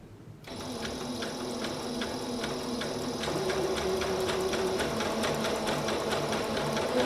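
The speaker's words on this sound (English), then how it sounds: "I'm just going to give sort of an overlock stitch just to seal up the edges, and I'm using the zigzag stitch again" A sewing machine runs a zigzag stitch along the raw edges of a T-shirt, a continuous close and steady mechanical whir with an even pulsing beat that never pauses.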